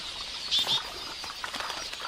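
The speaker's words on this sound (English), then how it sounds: "these quelea, which flock in the thousands" A flock of quelea birds taking off in a flurry of flapping wings near the water, two loud bursts of wingbeats followed by softer fluttering, with no talk.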